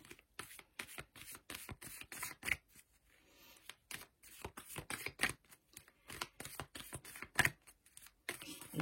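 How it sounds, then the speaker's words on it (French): Tarot and oracle cards being shuffled by hand in repeated quick riffling bursts, close and fairly quiet, with brief pauses between rounds and no talking. "Je mélange mes cartes."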